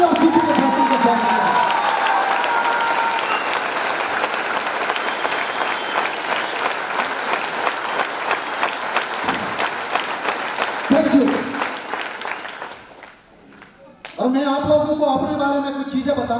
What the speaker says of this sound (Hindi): एक बार चौका तालियों के साथ